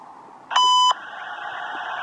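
A single steady electronic tone sounds for about a third of a second over a radio channel's hiss, the beep heralding a railway hotbox detector report heard aboard GO train 3725.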